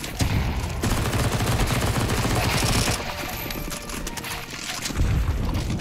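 Sustained gunfire from a zombie-escape round in Counter-Strike 2, shooting at zombies, roars loud and continuous for about three seconds, eases briefly, then swells back into rapid bursts near the end, with no talk over it.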